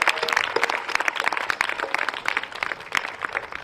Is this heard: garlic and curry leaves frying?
no